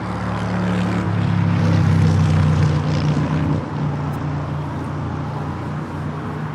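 A heavy airliner, Virgin 141, roars in to land on runway 25 left at Los Angeles International Airport, a loud low engine rumble swelling and then easing as it passes, heard from nearby outdoors.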